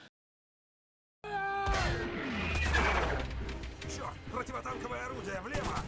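Heavy tank gunfire from Sherman tanks in a World War II battle scene from the film Fury: loud booming cannon blasts and rattling machine-gun bursts, sustained and dense after a second of silence, with a low rumble beneath.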